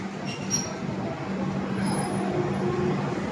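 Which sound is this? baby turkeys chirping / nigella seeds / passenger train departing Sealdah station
passenger train departing Sealdah station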